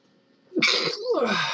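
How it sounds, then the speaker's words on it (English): A single human sneeze bursts out after a short quiet moment: a brief sharp intake, then a loud, close, breathy expulsion that trails off over about a second. "I've got to sneeze."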